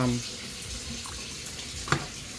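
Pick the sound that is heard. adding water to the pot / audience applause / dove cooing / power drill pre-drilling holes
adding water to the pot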